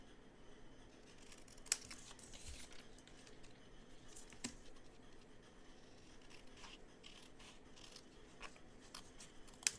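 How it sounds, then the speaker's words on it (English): Scissors snip through material in a quiet room, a few sharp, faint cuts scattered among soft handling noises, with no talk. "I'm just going to trim this off with my scissors"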